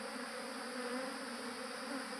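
A swarm of honeybees buzzes in a continuous, even drone as they are gathered by hand around their queen. The hum is steady and full, with no pauses or voices.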